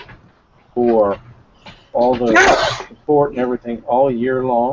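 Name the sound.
sneeze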